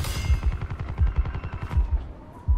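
An SG12 secondary shotgun in Call of Duty Black Ops 4 fires a rapid string of close, punchy shots in quick, evenly spaced succession.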